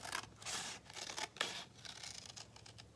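Scissors snipping through a paper plate in wedges, several crisp close cuts in quick succession with short pauses between, quiet overall.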